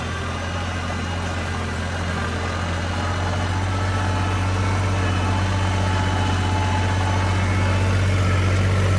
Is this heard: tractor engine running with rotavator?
yes